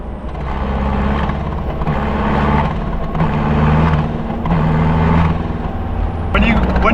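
A diesel truck in high gear climbs a hill, its engine droning loud and close with surges of revving as it rolls coal, while a person talks over the noise.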